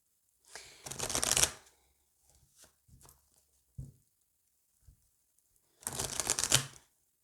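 Oracle cards being shuffled by hand at close range, two brisk riffling bursts with a few soft taps and card handling sounds between them, no talking.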